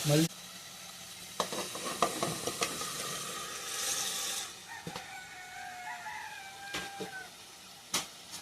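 Mutton pieces going into hot oil and masala for Andhra-style gongura mutton curry, starting with a loud burst and settling into a continuous sizzle with scattered utensil clinks, while a rooster crows faintly in the background.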